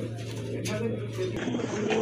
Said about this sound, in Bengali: আর হলো বিশেষ হলো চুইটাল কবুতর